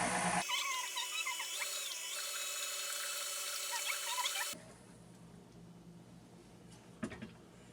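An electric mixer blending Dutch baby batter whirs steadily and fairly loud for about four seconds, then cuts off, leaving faint room noise and a brief clatter near the end.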